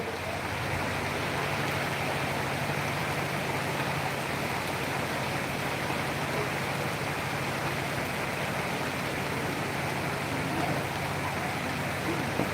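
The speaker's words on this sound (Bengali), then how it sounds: "প্রচুর বৃষ্টি হচ্ছে আপনারা" Continuous dense rain hiss, steady and unbroken throughout, like a heavy downpour drumming on surfaces nearby.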